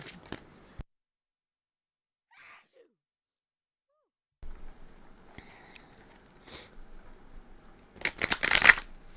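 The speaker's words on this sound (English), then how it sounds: "I'm gonna shuffle and I'm gonna do one more line." A deck of cards riffled near the microphone, a short crisp flurry after quiet stretches with faint handling noise.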